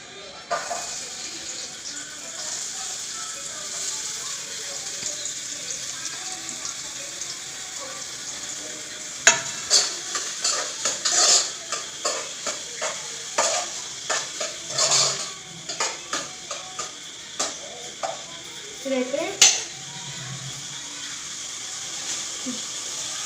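Onions and green chillies frying in oil for chicken fry: a low sizzle runs throughout, and midway a burst of rapid spatula clanks and scrapes against the pan stirs them, close and prominent.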